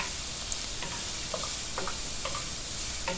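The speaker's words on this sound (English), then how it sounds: "So I added the carrot and the capsicum and saute it. Do it on a high flame" Carrots and capsicum sautéing over a high flame, a steady close hiss of frying with occasional light clicks of a spatula stirring the pan.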